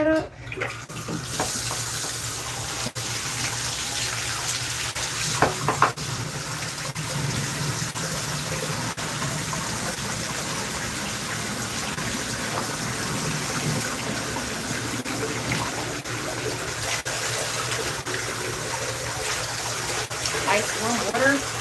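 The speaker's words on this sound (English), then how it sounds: "Gotta get the dilution bottle, fill that up." Tap water runs steadily into a dilution bottle while grooming a Standard Poodle for competition, a constant close gushing hiss lasting throughout with occasional clunks and a voice speaking over it.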